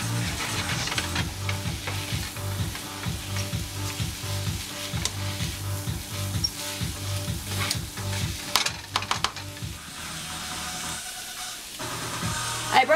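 Carrots and vegetables sizzle in a pan for a tofu scramble with potato, a steady frying hiss under a regular rhythm of spatula stirring and scraping, louder clatters near the end.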